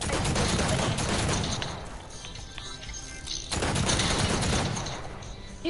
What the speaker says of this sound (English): he's shooting it